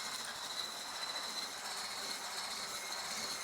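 Egg yolks and sugar are whisked in a bowl with a continuous, fast, bright scraping hiss that stays steady and fairly close throughout.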